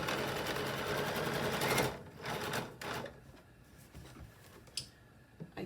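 Sewing machine stitching gathers at a long stitch length of 6, a steady rapid mechanical whir for about two seconds, then short bursts and stops with quieter clicks between.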